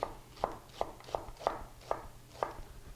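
A knife slices through a red onion on a cutting board, giving seven crisp, evenly spaced chops over three seconds, close and fairly quiet, with no talking.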